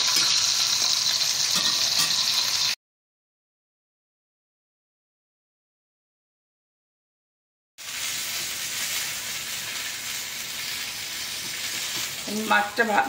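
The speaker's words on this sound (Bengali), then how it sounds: "এই মাথাটা ভাজছি" Loud, dense sizzling of a fish head frying in oil, close up, cut by a stretch of total silence before the frying resumes with faint clatter.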